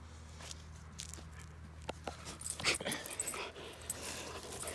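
A Rottweiler whimpers faintly over a ring toy nearby, with soft whines, shuffling, paw steps and chewing noises against quiet room tone.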